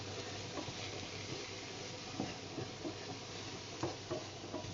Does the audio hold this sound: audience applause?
no